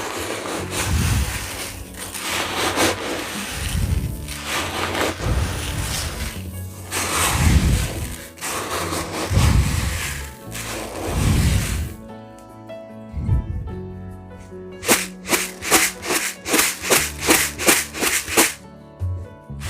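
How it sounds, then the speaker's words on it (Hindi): Stored pulses being stirred and tossed with mustard oil, a steady run of dry rustling, crunching scoops at close range, ending in a quick series of sharp rattling clicks. "सो ऐसे ऊपर नीचे करके अच्छे से मिक्स कर लूँगी"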